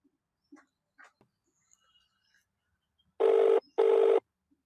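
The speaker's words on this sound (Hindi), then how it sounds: "अबे रुक, फोन आवता है।" A telephone rings twice in loud, even electronic bursts after a near-silent stretch with a few faint scattered noises.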